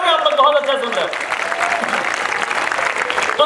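An audience at a Hindi kavi sammelan poetry gathering bursts into dense, loud clapping that carries on throughout, with a voice speaking over it at the start.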